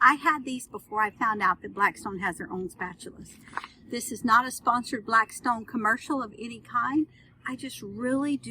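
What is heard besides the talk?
None of the usual background noises is heard.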